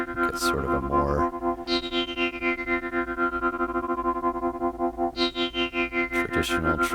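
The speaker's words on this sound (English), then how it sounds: "traditional tremolo sound going" Moog Minifooger analog pedal set for a traditional tremolo, pulsing a sustained instrument tone in a steady rhythmic throb of rising and falling volume, with fresh notes struck at the start and near the end.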